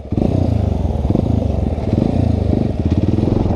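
A Yamaha Tenere motorcycle revving hard as the rider tries a stand-up wheelie, with a loud, close, pulsing engine note that rises and falls steadily throughout.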